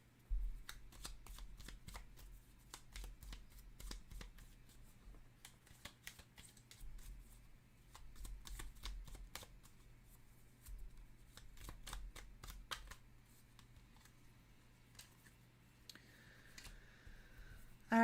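Tarot cards being shuffled by hand in quiet, repeated riffling bursts with crisp clicks of cards, close and soft, with a brief voice near the end.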